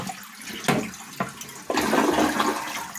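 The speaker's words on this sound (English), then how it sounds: "This thing fills up, and then it tips to flush." A tipping-tank toilet with a plumbing fault flushes: a few sharp knocks and clunks, then a loud, close rush of water that surges and churns for over a second.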